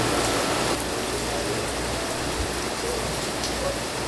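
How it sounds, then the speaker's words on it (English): Heavy rain pouring steadily outside a glass house, a dense, even roar of drops hitting surfaces close by, continuous and loud with no voices. "That's how you know it's a good rain."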